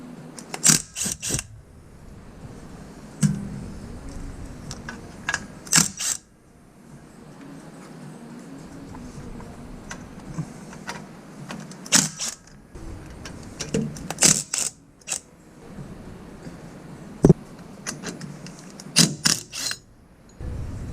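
A socket wrench loosens the bolts on a Toyota Tacoma differential third member during a regear. Sharp ratcheting clicks come in short clustered bursts with quiet pauses between them, close by and alone.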